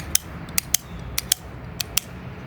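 Sharp, crisp mechanical clicks from magnetic paddle shifters in a BMW G80 M3, about seven of them at irregular intervals, close up over a quiet background hum.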